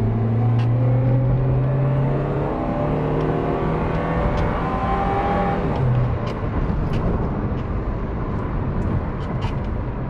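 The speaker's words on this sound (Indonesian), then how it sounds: "itu raungan mesinnya kedengeran banget" A 2018 Toyota Rush TRD Sportivo engine roaring loudly as it accelerates, heard from inside the cabin, with a rising drone that climbs, briefly drops at a gear change, then continues over steady road noise.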